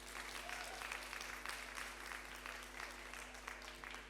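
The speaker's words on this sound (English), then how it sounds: "I'd love to give you a big round of applause for Adam" An audience at a marketing industry talk claps steadily for a speaker being introduced. The applause is quiet and sustained over a low electrical hum.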